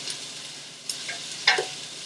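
Onion, garlic and ginger sauté in a pan, giving a soft, quiet sizzle broken by a few brief clicks and scrapes of stirring.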